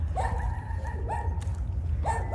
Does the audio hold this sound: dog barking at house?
yes